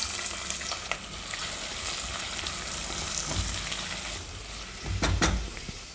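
Two large finely chopped onions frying in oil in a pan, a steady loud sizzle running throughout, with a couple of brief stirring scrapes and bursts of louder crackle near the end.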